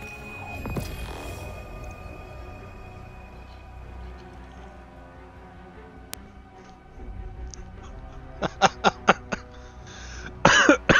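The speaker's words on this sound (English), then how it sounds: "this cough is really bothering me" A person with a bothersome cough coughs and clears the throat near the mic early on, followed by quieter sputtering and a cluster of sharp clicks and bursts toward the end, with no speech.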